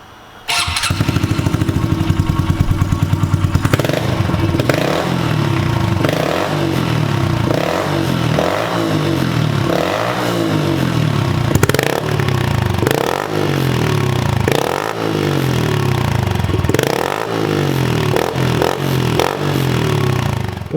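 Honda CRF110 pit bike running a Piranha Pro Circuit replica muffler with a spark arrestor, revving loudly and repeatedly with rising blips that fall back to a rough idle.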